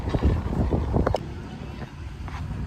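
Wind blows across an open-air field restaurant with a roof, giving steady microphone buffeting and rushing noise that dips partway through, with a few faint background sounds.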